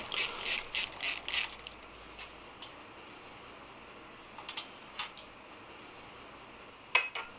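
A ratchet undoes the cam cover bolts on a BSA Goldstar 650 motorcycle, the bolts stiff with Loctite. Bursts of close metallic ratcheting clicks come at the start, then sparser clicks and a final sharp one.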